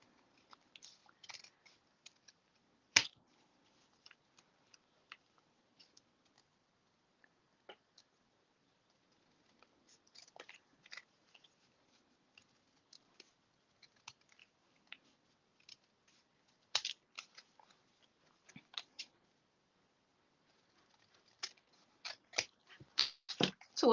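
Scissors snipping the edges of a small handmade notebook, a scattering of short, quiet cuts and clicks with long gaps, then busier clusters of crisp snips toward the end.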